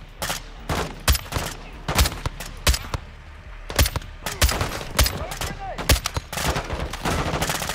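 Video game gunfire in a Modern Warfare 2 campaign firefight: sharp, loud irregular shots and short bursts cracking close by, spaced unevenly with no speech.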